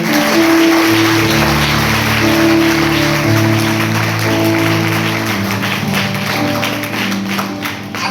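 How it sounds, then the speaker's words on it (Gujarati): Applause from a church congregation at a Gujarati revival service, steady and loud across the whole stretch, with sustained organ or keyboard tones beneath it. "જોરદાર તાળી પાડી દેવના"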